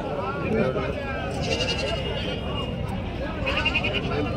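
Goats bleating amid crowd babble at a busy goat market, several wavering cries rising over steady chatter and background voices.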